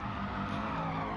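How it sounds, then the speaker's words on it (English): Tyre skid from a car drifting in a Gran Turismo Sport league race, a steady continuous screech with engine noise, loud and close throughout. "We've got a nice drift going there by Renelle."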